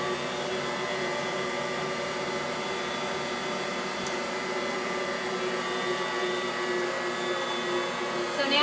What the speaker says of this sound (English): And I'm going to mix this on low.